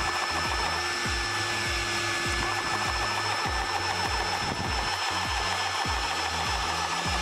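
A ToAuto A2x PCP high-pressure air compressor running steadily and loud up close, a constant mechanical drone with rhythmic pumping thumps and a high whine.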